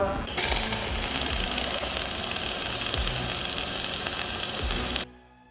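Welding a reinforcement plate, likely with a cordless Bosch grinder set nearby, gives a steady close crackling sizzle that runs unbroken for about five seconds and then stops abruptly.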